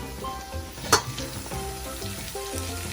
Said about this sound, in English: So now we're throwing in our meat.